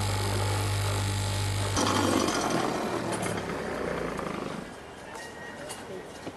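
Machinery in a garment factory's fabric cutting room runs with a steady low hum and mechanical drone, loud at first and then continuing more softly after a shift.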